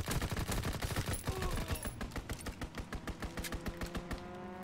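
A rapid, evenly pulsed burst of aircraft cannon fire from a strafing run in Call of Duty WW2, loud and close at first, then continuing as a steady rattling stream with a faint tonal whine underneath.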